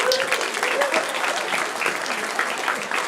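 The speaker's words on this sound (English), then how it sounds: "Another round of applause" A hackathon closing ceremony audience gives a steady round of applause, a full crowd clapping at close range without pause, with some voices faintly beneath it.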